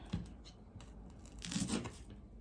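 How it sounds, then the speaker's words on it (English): Papery skin being torn off an onion, a few close, quiet crackling rips, the loudest coming in a short burst near the end. "I'm just gonna cut the bottom and then kind of just peel the skin off."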